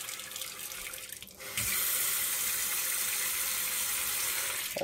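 Tap water runs into a cooking pot to rinse rice, a steady close rushing stream that grows louder and fuller as the flow opens up, continuing alone without talk.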